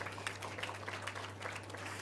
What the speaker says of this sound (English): So let's give them a round of applause because they are here.